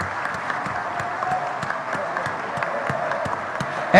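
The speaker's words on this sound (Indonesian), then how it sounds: "kembali tepuk tangan untuk Ketua Umum Partai Demokrat Bapak SBY" Dense, steady applause from a Democratic Party congress audience for party chairman SBY, with many hands clapping at once and a sharper burst of claps rising at the very end.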